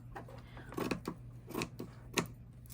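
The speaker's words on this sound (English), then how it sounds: "So I'm going to just cut straight up." Scissors snip through lining fabric being trimmed for a crochet bag, giving a few separate close crisp cuts at an uneven pace over a low steady hum, with no talking.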